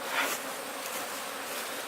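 Bees from a large honeycomb of very aggressive honeybees buzz steadily for two seconds, a dense close swarm drone with a brief louder swell near the start and no talking.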